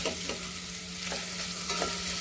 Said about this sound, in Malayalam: എന്നിട്ട് നന്നായിട്ട് വഴറ്റി കൊടുക്കുക